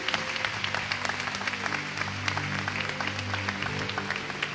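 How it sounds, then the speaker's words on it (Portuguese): A church congregation claps warmly at a service, a steady wash of applause over sustained musical tones in the background, even and continuous throughout. "Recebam com muita salva de palmas."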